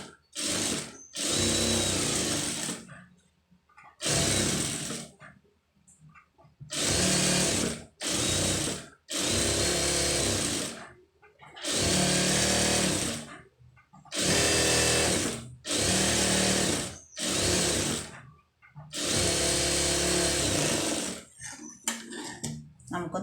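A sewing machine stitching a lining blouse whirs in repeated close bursts of rapid needle rattle, around a dozen runs of a second or two each, separated by brief quiet pauses.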